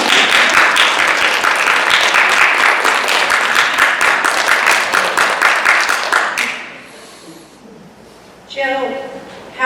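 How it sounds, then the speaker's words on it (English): Audience at a mayoral candidate forum in Council Bluffs, Iowa bursts into loud, sustained applause for about six seconds before it cuts off, followed by a quieter stretch and a brief return of sound near the end. "If you're happy, you know, clap your hands."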